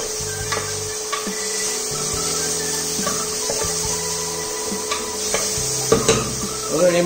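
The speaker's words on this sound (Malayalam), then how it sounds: "ഇതൊരു പച്ചമാണ് പോകുന്നതും വരെ നമ്മളിതൊന്ന് ഇളക്കി കൊടുക്കണം." A spoon stirs and scrapes in a pan of biryani ingredients on the stove, with repeated close metallic clatters and knocks over a steady background hum, loud and busy throughout.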